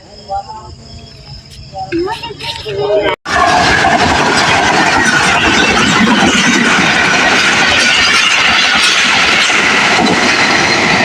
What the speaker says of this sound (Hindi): और इस तरफ से भी ट्रेन आ रही है और हमारी ट्रेन यहाँ से आ रही है।